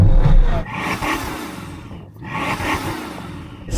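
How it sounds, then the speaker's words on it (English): Tuned BMW M5 and M4 engines roar together at a drag race meet, loud and sustained with rising and falling revs, a brief dip midway before the blare surges again. "can you guys now rev up both your cars together"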